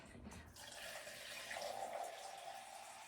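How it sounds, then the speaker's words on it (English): Filtered water poured into a pot while preparing corned beef and cabbage, a steady close splashing stream lasting about three seconds with no talk over it. "And I do add my filtered water."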